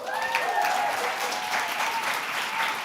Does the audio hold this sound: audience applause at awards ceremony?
yes